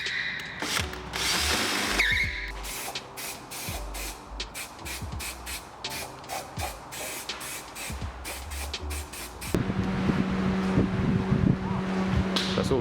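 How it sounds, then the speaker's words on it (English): A power drill whirs in repeated short bursts, close by, drilling a large hole while fitting an MTX gearbox into a turbo Ford Escort, with pauses between each pull of the trigger, then a steadier mechanical hum takes over. "so you've got to drill that massive hole out"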